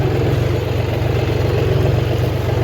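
Farm tractor engine idling steadily at close range, a continuous low mechanical rumble with a regular pulsing throb and no talk over it.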